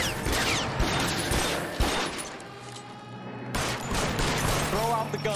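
Gunfire in the video game L.A. Noire, loud bursts of shots and mechanical clatter in a busy shootout, with game music and a voice underneath.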